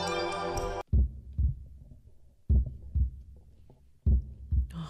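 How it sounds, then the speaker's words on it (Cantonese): A horror video game plays a heartbeat sound effect: deep, booming double thumps repeat about every one and a half seconds, loud and isolated after a short burst of musical tone. "原來係嗰啲心跳聲啊嘛"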